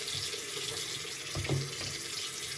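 A bathroom tap runs steadily into a sink for washing the face, a close continuous splashing flow with a slight surge of water partway through, no voices.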